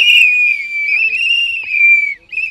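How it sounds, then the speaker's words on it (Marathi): Children blow a whistle used as an election campaign symbol in a ward: one long, loud, shrill steady blast, near, with a brief break and a short final toot. "हा शिट्टीचा आवाज संपूर्ण प्रभाग क्रमांक 18 मध्ये गुंजतोय"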